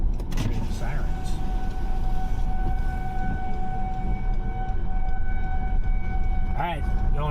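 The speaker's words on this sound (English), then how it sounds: "Hear the sirens." Tornado warning sirens wail steadily in the distance beneath constant road and engine noise from a moving vehicle near Bristow, Oklahoma, with a voice speaking over it.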